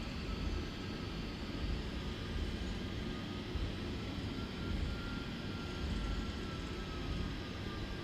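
A cargo airliner taxis at Dublin in Microsoft Flight Simulator, its engines giving a steady, moderately loud jet rumble and whine that holds evenly throughout without voices.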